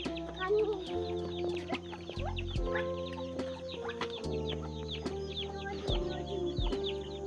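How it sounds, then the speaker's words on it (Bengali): A hen clucks repeatedly while walking with her chicks outdoors in the late afternoon, her low rhythmic clucks close by, with thin high peeping from the chicks and occasional crowing further off. "দেখো মুরগির বাচ্চাগুলো কি সুন্দর তার মায়ের সাথে ঘুরছে"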